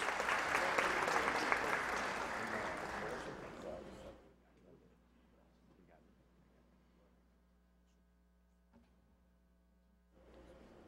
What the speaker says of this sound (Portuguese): peço uma salva de palmas